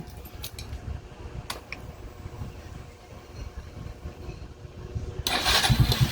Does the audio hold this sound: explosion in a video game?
no